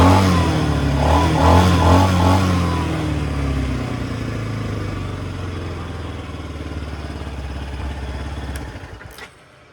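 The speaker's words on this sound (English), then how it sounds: "Give it a little rev." A four-wheeler engine revs loudly up close, rising to a throaty roar in the first seconds before dropping back to a steady rumbling idle that cuts off abruptly at the end, with no talking.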